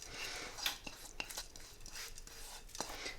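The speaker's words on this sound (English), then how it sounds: "I'm going to give it a little stir." A spoon scrapes and stirs cumin seed pilau rice in a pot, a quiet series of close grainy scrapes and light metallic taps in an irregular rhythm.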